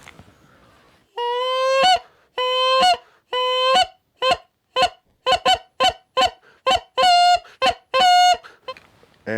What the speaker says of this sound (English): This is a standard goose flute.